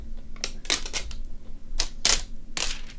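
SteelSeries Apex M800 mechanical gaming keyboard keys clack in quick bursts of taps, crisp and close, with short pauses between runs.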